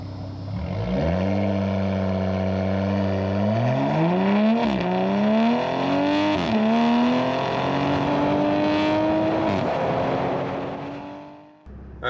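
A Toyota Supra pulls hard on a drag race run. The engine note climbs steadily, drops at each gear change, then keeps climbing for several seconds before cutting off abruptly.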